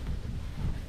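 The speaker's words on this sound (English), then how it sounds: "It's just so windy." Steady, gusting wind buffets the microphone on a Harley-Davidson motorcycle, producing a continuous low rumble with no pauses.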